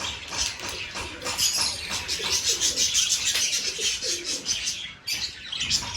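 Pet pigeons coo in soft repeated murmurs nearby during vaccination, with scattered chirps and brief wing flutters mixed in.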